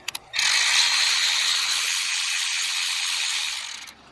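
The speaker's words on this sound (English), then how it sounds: "So what I'm going to be using is a power ratchet, but you can just do it with a ratchet." Rapid ratcheting whir of a power ratchet loosening a bolt on a Volkswagen Golf R during a turbo muffler delete install, one continuous close burst of about three and a half seconds after two quick clicks.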